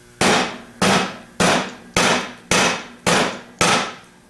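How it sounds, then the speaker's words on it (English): An alternator shaft from a 4G alternator, with a nut left on its end, is slammed down onto the flat back of a steel vise. Seven loud, sharp impacts land at an even pace about half a second apart, with no talking. "You can set the shaft on the flat part of the back of the vise and slam it down."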